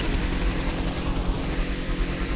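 A helicopter in the Gangstar Vegas video game gives a steady, loud rotor and engine drone that fills the whole short stretch without pause, with no talking.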